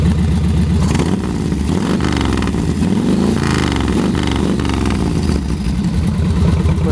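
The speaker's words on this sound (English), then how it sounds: "And listen to the engine." A customized stage 1 motorcycle engine with added horsepower revs up and down repeatedly up close, its deep rumbling roar rising and falling loudly throughout.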